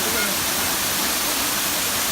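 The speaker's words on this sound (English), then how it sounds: "We're here at the waterfall." A roughly 200-foot waterfall roars as a loud, steady broadband rush that fills the whole clip.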